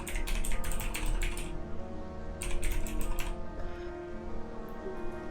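Rapid, steady typing on a computer keyboard during a livestream, heard close in two bursts separated by a short gap, over a constant background hum.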